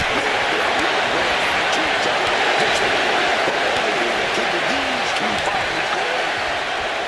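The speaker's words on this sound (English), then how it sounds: "this exchange is whipping this capacity crowd into a frenzy" A capacity crowd at a WWE Elimination Chamber wrestling event roars and cheers in a dense, loud, continuous wash of noise that holds steady throughout.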